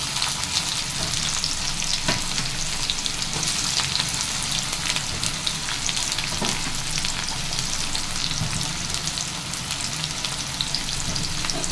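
Onion fries in a pan with garlic and curry leaves for drumstick thokku, giving a continuous close-up sizzle with occasional soft stirring scrapes throughout.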